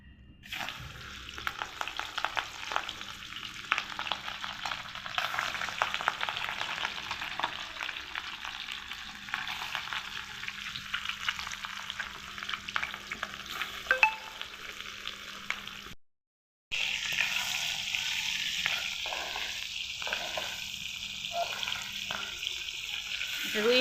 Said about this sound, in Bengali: তারপরে মাছটা ভেজে নেব।